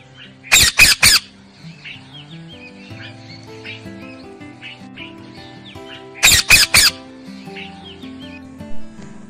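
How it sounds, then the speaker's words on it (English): Parrot giving two bursts of three loud, harsh squawks, near and piercing, separated by quieter background music. "This is a parrot."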